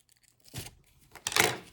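Scissors cutting and tearing open a cardboard box for a 1996 X-Files card game starter deck, two short rough ripping bursts separated by a brief pause, close and fairly quiet.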